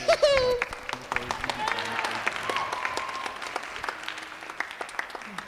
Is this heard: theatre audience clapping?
yes